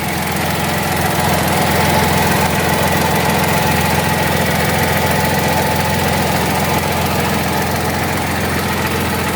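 The engine of a 2024 Fiat Panda Hybrid runs at a steady idle, a loud, close, even drone with a faint mechanical rattle, heard alone without speech.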